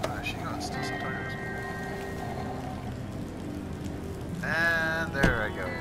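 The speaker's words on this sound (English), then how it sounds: "And there I go. In the rain." Steady hiss of rain falling in the video game Batman The Enemy Within, a continuous wash running the whole time beneath music and voices, swelling slightly near the end.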